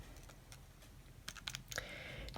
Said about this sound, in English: I'm going to put that in on the calculator. So I type in 12